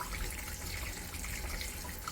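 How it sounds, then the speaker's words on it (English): Steady rush of water pouring from one barrel into another during a 450-gallon aquarium water change, a continuous broadband splashing flow heard alone without pauses. "water is now falling from barrel A into barrel B"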